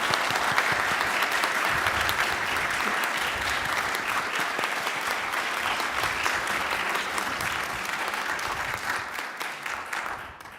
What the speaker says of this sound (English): Can we give our teens and their wonderful OWL facilitators a round of applause?